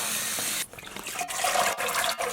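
Warm tap water gushes steadily over ground beef being rinsed in a sink, a loud continuous splash that briefly dips and then resumes with sloshing and dripping.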